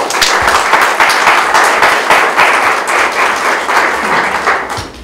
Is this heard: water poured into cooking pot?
no